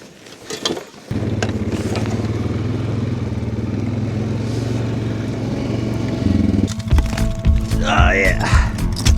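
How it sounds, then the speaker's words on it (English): A four-wheeler ATV engine idles with a steady low rumble on an Alaskan beach, rising and sputtering toward the end as it revs, close by, with a voice speaking near the start and end. "I'm gonna get my four-wheeler and start loading some of this stuff up"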